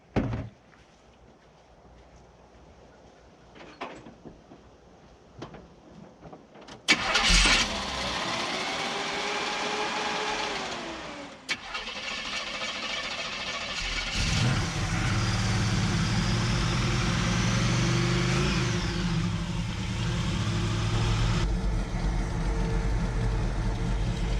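A 1986 GMC utility truck's engine fires up after a few faint clicks and knocks, then settles into a steady, loud idle before rising to a stronger, sustained run that continues to the end.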